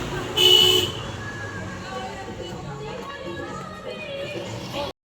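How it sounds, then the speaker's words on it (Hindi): A vehicle horn honks once briefly near the start while driving through narrow lanes, followed by steady street and engine noise in the background. "हॉर्न मारना रे"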